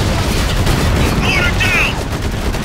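Gunfire and blasts from an RPG strike destroying an enemy mortar position in the Spec Ops: The Line shooter, a loud, dense barrage of shots and booms running throughout with battle shouts mixed in.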